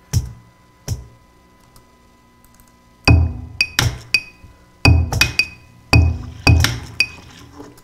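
A glass bottle clinks in bright, ringing taps, two isolated knocks followed by quick clusters of strikes, close and clear against a quiet background.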